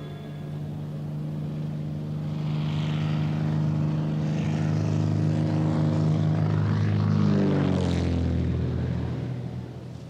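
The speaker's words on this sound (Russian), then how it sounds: "Эти самолеты пытаются взлететь по узким взлетным полосам." Small propeller airplanes take off from narrow airstrips along the Marupa river, a deep droning engine hum that swells louder as it nears and climbs, then fades slightly, heard without any talking.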